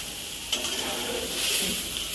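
Onion cooking slowly in a pan with very little oil, a soft, steady sizzle with a brief scrape of stirring near the start.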